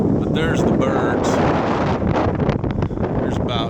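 Strong wind buffets a microphone outdoors on a hot day near a bird loft, a heavy rumbling roar with gusty surges, and a voice is partly buried beneath it.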